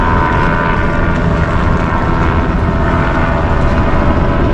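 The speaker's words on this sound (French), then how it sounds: "il y a un hélicoptère qui est là." A helicopter flies over the start of a sailing race, its engine and rotor making a loud, steady, close drone that fills the whole stretch without any talk.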